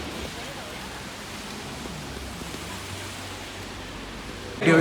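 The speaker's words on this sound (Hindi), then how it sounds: "फिर तेज़ बारिश लग गई।" Heavy rain in the UK pours as a constant, broad hiss at an even level, ending with a sudden loud burst.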